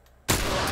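A rifle shot fired at an enemy in The Last of Us: one sudden, loud, close blast after near silence, its roar sustained and filling the rest of the moment with no talk.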